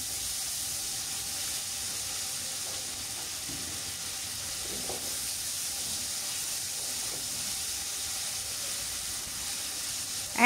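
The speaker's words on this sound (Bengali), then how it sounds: "চিকেনটা দিয়ে আমি পেঁয়াজের সঙ্গে খুব ভালোভাবে একটু ভেজে নিচ্ছি। দিয়ে দিলাম টমেটো।" Chicken and tomato fry with onions in a pan, giving a faint, steady hiss and sizzle throughout. A brief louder clatter comes at the very end, and no one speaks.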